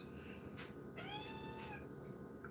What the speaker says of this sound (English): Cat, what you're talking to me